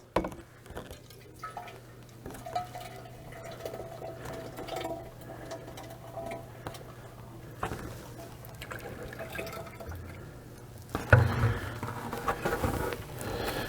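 Honey pistachio ice cream base poured into the fill mouth of an ice cream machine, giving a steady liquid trickle over the machine's constant low hum, with a louder splash and clatter near the end.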